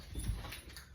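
Two male beagles whimper and scuffle close by, a short burst of whining yelps with thumping movement, no talk.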